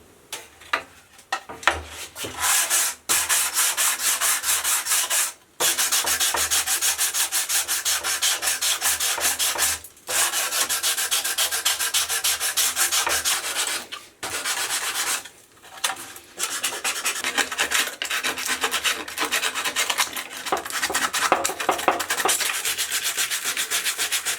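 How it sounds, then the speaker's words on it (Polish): A handheld electric sander works over a wooden stool's surfaces during a basement restoration, a steady loud abrasive rubbing that runs almost continuously, broken only by a few brief pauses as the tool is lifted and repositioned. "resztę będę już musiał zrobić za pomocą szlifierki ręcznej"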